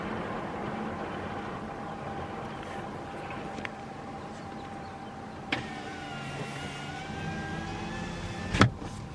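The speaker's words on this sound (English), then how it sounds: "so I did put my window up because it was getting very, very breezy" A car power window closes on a breezy safari drive at Natural Bridge Wildlife Ranch. Steady wind and engine hum carry on throughout, then an electric motor whines for a few seconds and ends in a soft thump.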